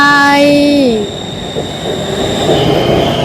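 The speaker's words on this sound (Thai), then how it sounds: "ตอนนี้ผมมาอยู่ที่ สถานีรถไฟ" A train at a railway station sounds a long descending horn tone and wheel squeal, then fades into a steady rumbling station ambience, loud and close.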